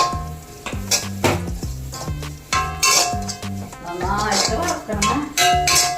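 Utensils scrape and clink against a heated clay chatti as ingredients for a bitter gourd theeyal are roasted and stirred, with repeated knocks and a faint sizzle under background music.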